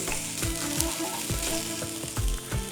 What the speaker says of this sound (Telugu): ఉసిరికాయ ముక్కల్ని ఒక రెండు మూడు నిమిషాలు వేయించుకోవాలి